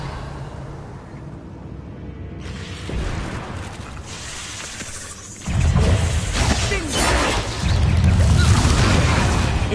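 A Revelio spell cast in Hogwarts Legacy, a shimmering burst with a shattering, booming sweep that swells and lingers, followed by louder rumbling effects.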